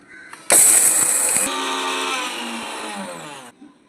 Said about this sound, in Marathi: आता हा खडा मसाला मी मिक्सरमध्ये बारीक करून घेत आहे.